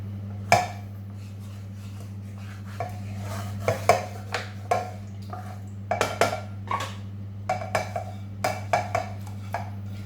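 Mint rice is mixed in a metal pot with a utensil, producing scattered scraping clinks and taps in irregular bursts over a steady low hum.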